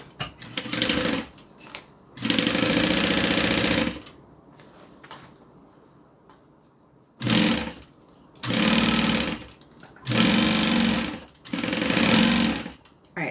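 A sewing machine stitches a curved seam on a pinned and clipped bag, running in five loud bursts of steady whirring separated by short quiet pauses.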